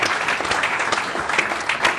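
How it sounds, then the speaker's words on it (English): An audience claps together in a dense, lively burst of applause that holds steady for a couple of seconds. "Big round of applause for the man who now has another pair of shoes."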